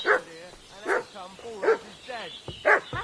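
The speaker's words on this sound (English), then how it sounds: "What's that dog making such a fuss about?" A dog in the video game Kingdom Come Deliverance 2 barks repeatedly in a steady series of five sharp, fairly close barks, while a voice talks at the same time.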